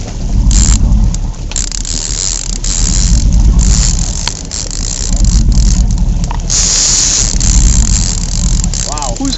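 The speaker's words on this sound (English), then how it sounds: "Keep reeling, Bob." Fishing reel cranked on a boat while fighting a king salmon on Lake Michigan off Waukegan, a close rapid ratcheting whir in repeated bursts amid engine rumble, with voices calling nearby.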